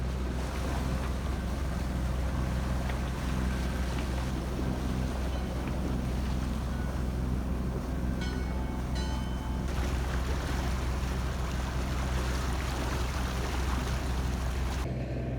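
A sailing boat motoring with the mainsail down off Selsey Bill near the Looe Channel: a steady low engine drone runs throughout beneath wind buffeting the microphone and water washing past the hull.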